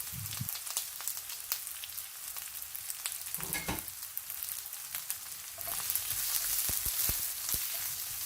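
Large onion pieces frying in hot oil for chili paneer, a steady bright sizzle with occasional stirring clatter, growing louder and denser partway through, close and alone without voices.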